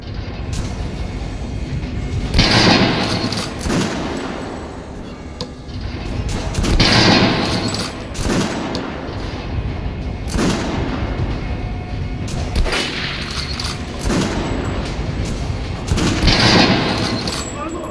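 Gunfire and heavy booming from a military firing exercise in the shooter game Metro Last Light, with bursts recurring every few seconds over a dense, loud battle ambience and some talk.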